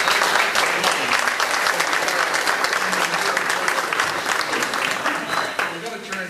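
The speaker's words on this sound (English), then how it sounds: "Let's have one more round of applause for the guy." An audience applauds a candidate at an EMC board candidates meeting, a dense, steady wash of many hands clapping that holds throughout and tapers slightly at the end, with faint voices mixed in.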